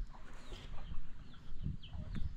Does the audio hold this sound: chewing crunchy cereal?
no